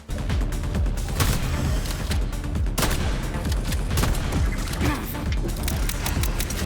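Shotgun fire in the video game Atomic Heart, a dense run of loud, sharp blasts and impacts layered over continuous game noise and clatter, with no clear pauses between shots.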